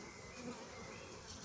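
A honeybee swarm buzzes in a dense, continuous drone, faint and steady throughout, heard up close from a ladder.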